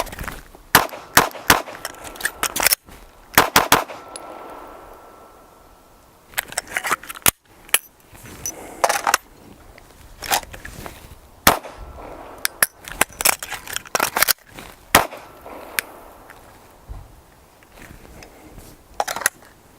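A pistol is handled through a speed reload, with sharp, close metallic clicks and snaps of a magazine ejecting and seating in scattered bursts between quieter handling noise.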